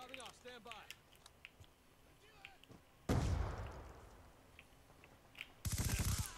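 A Remington gun fires in Black Ops 2, a sudden loud blast at mid-clip followed by a decaying rumble, then a second heavy burst near the end, with faint game sounds beforehand.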